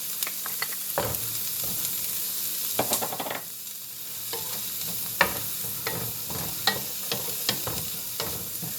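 Garlic and onions sizzle steadily in a pan with beef juices for Salisbury steak, while a spoon stirs and knocks against the pan in irregular, fairly close scrapes and taps over a constant frying hiss.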